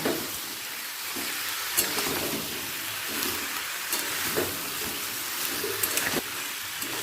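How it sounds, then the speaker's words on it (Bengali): Fried Vetki fish-head bones get stirred together with potato, onion and eggplant in a hot pan, a continuous sizzle broken by occasional scraping knocks of the spoon against the pan. "কাঁটাটার সাথে আলু পেঁয়াজটাকে ভালো করে মিশিয়ে নিচ্ছি"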